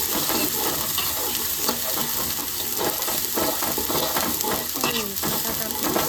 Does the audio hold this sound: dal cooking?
yes